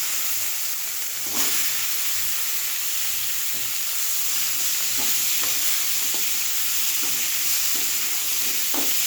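Steady, loud sizzling of bitter gourd and potato frying in hot ghee with five-spice seeds fills the whole stretch, with occasional faint clinks of a utensil stirring.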